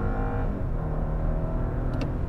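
A 2023 Audi Q7 55 TFSI engine roars hard and steady under full acceleration after a brake-torque launch, heard from inside the cabin with a constant low rumble.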